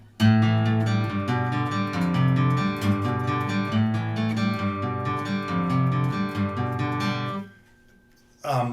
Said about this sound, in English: He does it cross picking, where he goes down, down, down,